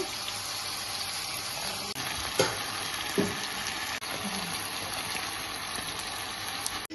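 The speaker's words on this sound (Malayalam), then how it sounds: "ഇങ്ങനെ ഫ്രൈ ആയിക്കൊണ്ടിരിക്കുന്നു" Chicken pieces frying in oil over a high flame, a steady dense sizzle held close and loud throughout, with a couple of brief stirring clatters and no voices.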